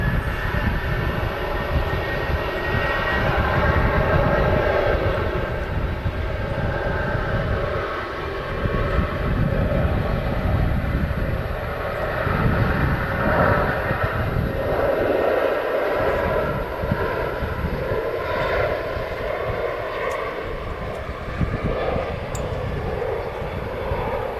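A Ryanair airliner departs Manchester Airport, its jet engines producing a loud, sustained broadband roar that fills the whole stretch with slow swells and slight fades, heard from nearby without speech.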